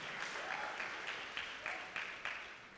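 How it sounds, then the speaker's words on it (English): Faint, scattered hand clapping from a church audience, a thin rolling patter with a few sharper claps standing out over a short span. "Can you clap your hands if you agree on that?"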